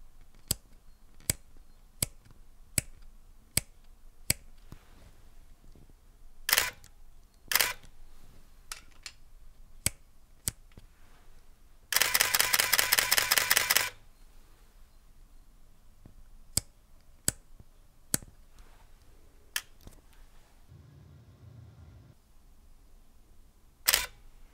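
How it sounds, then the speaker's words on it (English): Canon EOS RT film SLR camera operating, a series of sharp isolated shutter clicks and ticks spaced a second or two apart, with one longer buzzing burst of motorized film winding midway, close and otherwise quiet. "Listen to some more sounds of this great camera."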